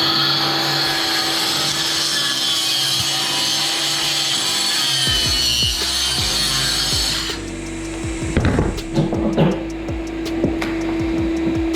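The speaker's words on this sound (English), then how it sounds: "I am going to cut this plywood out" A whining power tool cuts steadily through a plywood subfloor, running loud and continuous before the tone shifts and scattered knocks and clunks join in near the end.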